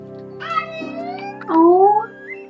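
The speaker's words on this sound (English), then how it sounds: "Oh, what are you meowing about, you silly?" A cat meows a few times in short, rising cries close to the listener, overlapping with a voice talking to it in a soft, playful tone.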